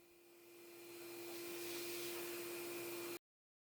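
A vacuum cleaner hums with a steady whine and broad hissing rush while clearing sanding debris off a live-edge rainbow poplar wood slab, swelling slightly louder before cutting off abruptly; no voices.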